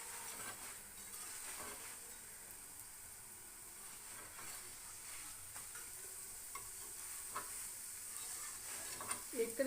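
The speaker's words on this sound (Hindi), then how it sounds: "अब इसको आपने प्याज के साथ फ्राई करना है।" Layered wheat-flour lachha paratha frying in desi ghee with onion in a pan, a steady soft sizzle and hiss with occasional light scrapes and clinks, fairly quiet and close.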